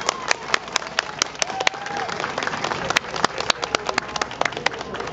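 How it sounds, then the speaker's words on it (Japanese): Applause from the audience at a 2014 Tenterebi Expo stage show, scattered sharp claps ringing out over a busy crowd murmur with an announcer's voice mixed in. "大きな拍手をお願いします。"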